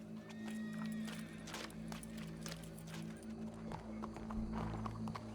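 Horse hooves clip-clop in Red Dead Redemption 2, a quick, uneven run of soft thuds over a steady low hum, with faint voices in the background.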